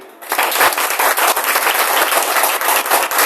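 A church congregation breaks into sudden applause during a sermon, a loud, dense burst of many hands clapping that starts sharply and holds steady for a few seconds.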